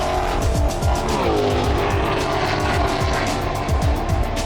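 Ford Mustang race cars at Le Mans roar past with loud, rapid engine revs and gear-shift sweeps, multiple cars blaring continuously and close, with squealing, layered engine tones throughout.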